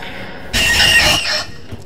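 A sudden shrill screech from the Screech monster attacking in the video game Doors, lasting about a second, bright and piercing over a low background hum.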